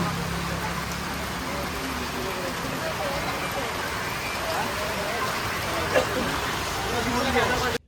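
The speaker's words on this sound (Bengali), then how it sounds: "বৃষ্টিটা অনেক সময় ধরে হচ্ছে" Steady rain falls outdoors near a pond as a dense, even wash of patter that holds at one level throughout, with faint background rumble and possible murmured voices.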